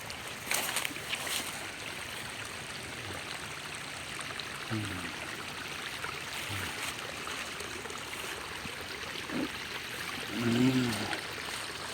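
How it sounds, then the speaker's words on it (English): Runoff water cascades into a small creek in a park in winter, giving a steady soft rushing and trickling wash at moderate distance, with faint occasional knocks and brief low murmurs over it. "it's cascading down into this stream right here"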